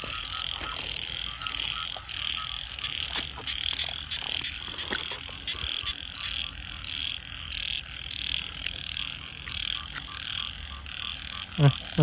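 Frogs croaking in a rice paddy during heavy rain, a steady chorus of repeated calls close by with occasional sharper croaks, under constant rain hiss and no talk.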